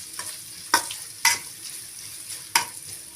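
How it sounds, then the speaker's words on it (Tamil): Onions, green chillies and curry leaves sautéing in a pan give a steady soft sizzle, broken by three sharp scraping clicks of a spoon stirring against the metal. "கொஞ்சமாக கருவேப்பிலை நல்லா வதக்கி விட்டுக்கலாம்."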